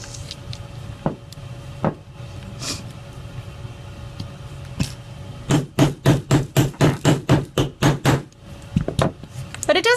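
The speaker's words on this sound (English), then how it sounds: "you don't want to hammer it too hard, because if you hammer too hard, then you're gonna misshape your eyelet" A hammer taps an eyelet flat on a rhinestone leather cuff bracelet: a few scattered knocks, then a quick run of about a dozen firm, evenly spaced strikes, close and sharp against a faint background hum.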